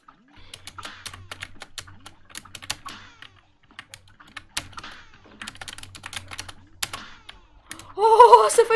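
Rapid clicking keystrokes on a computer keyboard during a video game session, close and fairly loud in irregular bursts, with a louder burst of other sound at the very end.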